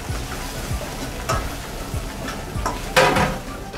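Chilli chaap and garlic fry on a hot tawa with a constant sizzle, broken by repeated sharp scraping and tapping strokes of a spatula against the metal and one louder burst of spitting.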